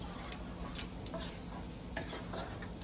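A pot holding two bay leaves stirred for Cajun dirty rice, a low continuous simmering sizzle with faint, scattered clicks of the spoon.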